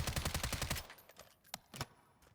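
Automatic gunfire in Warzone 3 during aim training on a controller: a rapid, loud burst of rhythmic shots for under a second, then a few sharper single shots spaced apart, close with no speech.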